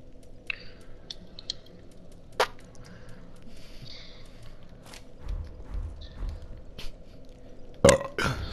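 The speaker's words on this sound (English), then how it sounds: "I burped" A short, low, gurgling burp rises from a quiet room around the midpoint, close and fairly loud, followed later by a sharp knock and scattered small clicks and rustles, with no speech.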